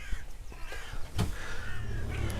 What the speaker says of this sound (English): Plenty of crows around here as well.